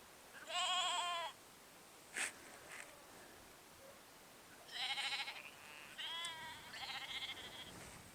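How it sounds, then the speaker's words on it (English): Sheep bleat in a hillside field in the Peak District near Mam Tor: a few wavering calls in separate bursts, at moderate distance, over soft outdoor wind noise. "Hello sheep."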